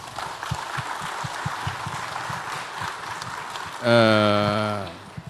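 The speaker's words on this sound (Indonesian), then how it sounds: "Boleh tepuk tangan dulu." An audience applauding at a live stock-investing talk, sustained rain-like clapping for several seconds before a voice cuts in loudly at the end.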